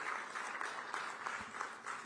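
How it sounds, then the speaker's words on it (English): An audience claps at a technology conference in Visakhapatnam, a faint, steady patter of many hands heard from a distance, with a few slightly louder claps. "Thanks for clapping."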